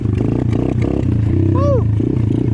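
Apollo 125 dirt bike on a trail, revving in quick throttle blips with a rough, clattering exhaust note, close and loud, with a rising whine midway.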